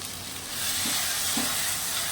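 Mustard paste of black and white mustard seeds hitting a pan with prawns, a dense close-up frying hiss that swells and holds steady throughout with faint stirring knocks.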